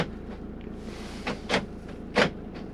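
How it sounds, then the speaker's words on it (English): Cab doors of an Adria Compact SP Plus motorhome lock with a few short mechanical clunks, two sharper actuator thuds standing out near the end, close by over a quiet cabin hum. "Locks the doors on an evening, cab doors."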